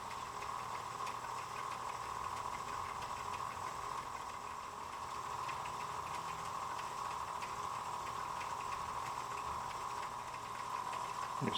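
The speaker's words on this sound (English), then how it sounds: "turn the lathe on to its slowest setting" A lathe runs at its slowest speed during resin work for snakeskin micarta, giving a steady, even motor hum with a bright whine that holds unchanged throughout, with no voices.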